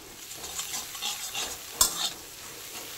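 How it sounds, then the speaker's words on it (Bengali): Maggi noodles frying and being stirred in a home kitchen pan for a hot spicy recipe, a soft steady sizzle with scraping stir strokes and one sharp clink near the middle, no talking. "তাহলে এটা একটু ভাজা হয়ে যাক, একটু ছেড়ে যাক"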